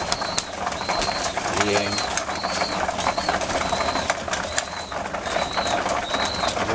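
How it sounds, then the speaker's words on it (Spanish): Racing pigeons coo repeatedly in a loft ahead of a squab race season, soft rising-falling calls recurring every half second or so, with a brief flurry of wing flaps midway and someone speaking briefly. "están botaneando las palomas"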